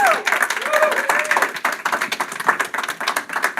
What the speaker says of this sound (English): a round of applause for the crowd, please